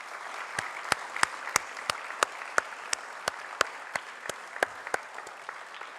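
An audience applauds award recipients at the IIT Kharagpur Homecoming 2022 ceremony: a steady wash of clapping with sharp, regularly spaced individual claps that stand out at an even pulse throughout.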